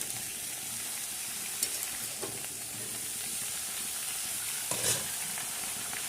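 Colourful mixed winter vegetables fry in a pan with a continuous soft sizzle and hiss, broken by a few faint stirring clicks, with no one talking.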